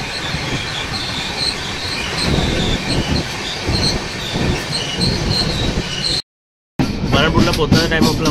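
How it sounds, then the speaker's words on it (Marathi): The Pawan Express rolls into Bharanpur railway station, wheels rumbling and squealing loudly along the platform, with a brief cut of silence before the clatter resumes. "आपली गाडी आता भारणपूर रेल्वे स्टेशनला पोहोचली आहे"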